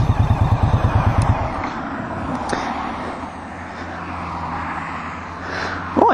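An Indian Scout Bobber motorcycle engine idles in neutral with a deep, rapid, even low pulse. The pulse fades after a second or two into a softer, steady hum with some outdoor background noise.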